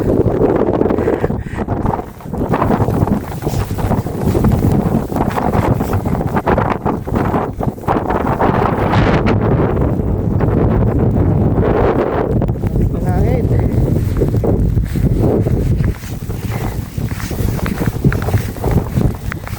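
Strong, gusty wind roars across the microphone almost continuously, blowing snow outdoors, with voices talking under the buffeting throughout.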